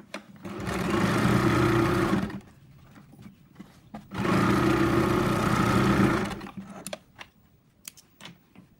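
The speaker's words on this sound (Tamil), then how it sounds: "இதையும் திருப்பி போட்டு மேலே ஒரு ப்ரெஸ் தையல் போட்டுக்குவோம்" A sewing machine stitches a press seam on fabric in two steady bursts of rapid whirring, each about two seconds long, separated by a quiet pause with light handling noises.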